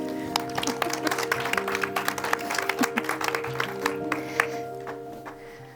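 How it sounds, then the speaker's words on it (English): A hall audience claps to welcome speakers, a dense stretch of many hands that thins and tapers off toward the end. "So please welcome the two distinguished intellectuals with an applause."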